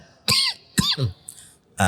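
Two or three harsh, throaty coughs in quick succession, close and fairly loud, followed by a short pause and another burst.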